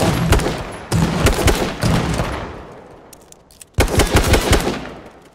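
An AR assault rifle fires in H1Z1: three loud, close bursts of rapid automatic shots, with a short quiet gap before the last burst.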